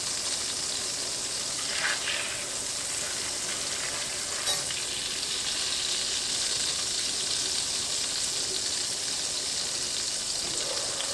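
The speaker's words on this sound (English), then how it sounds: "I'm going to start with melting another 4 tablespoons of butter to kind of thin out the spices" Four tablespoons of butter melt and sizzle with spices in a pan, giving a steady, close frying hiss with occasional faint stirring scrapes and no talking.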